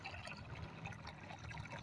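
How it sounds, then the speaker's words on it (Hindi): Water is poured in a steady stream into a mixture being prepared as a remedy for sick pigeons, a soft continuous close-up trickle and splash. "धार बना के पानी डालेंगे ताकि ये अच्छी तरीके से मिक्स हो जाए।"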